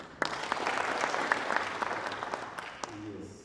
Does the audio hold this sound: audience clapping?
yes